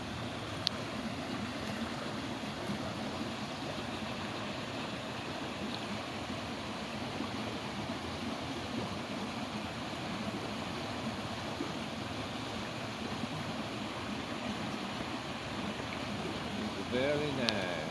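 Steady broadband rush of water spilling over an old stone dam on a rainy autumn walk, continuous and fairly close, with a faint bump near the end.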